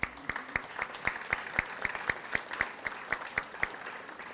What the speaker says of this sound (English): big round of applause for just everyone that does the behind the scenes work for these girls